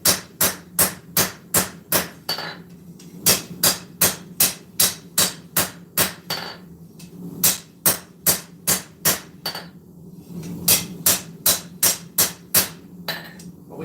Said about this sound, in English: I'm just going to take the hammer and just kind of flatten it a little bit.